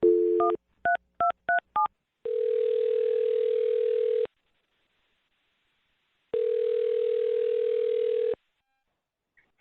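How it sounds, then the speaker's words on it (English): A phone number dialed as a quick run of touch-tone keypad beeps, followed by two long, steady ringback tones separated by a silent gap. "I'm going to dial her phone number right now."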